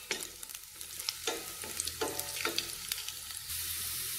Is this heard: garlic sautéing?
yes